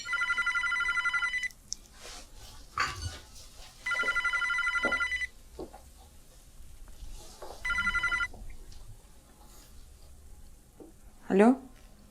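A telephone bell rings in three long electronic bursts separated by pauses, clear and fairly loud indoors, with soft background movement between the rings.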